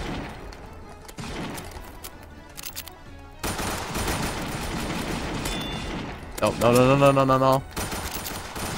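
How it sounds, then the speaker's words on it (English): M9 pistol fire in Roblox comes as a fast string of gunshots over a busy game soundscape; a voice briefly speaks, and a louder burst of shooting near the end stands out. "there's a new pistol in the game. It's the M9"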